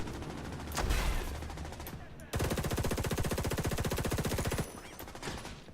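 Video game gunfire: a scattered burst of shots, then a long, rapid, evenly spaced automatic volley lasting over two seconds, loud and close, fading to softer background noise afterward.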